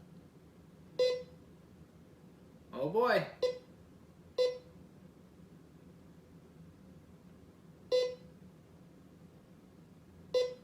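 A TackLife MMD05 metal detector gives short electronic beeps at irregular intervals over a low hum, with one brief spoken exclamation in the middle.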